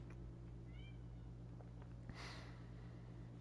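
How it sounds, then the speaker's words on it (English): A cat meows outdoors in the video game Genshin Impact, two short, soft mews heard faintly over a steady ambient hum, followed by a brief rustle. "Can hear my kitty outside."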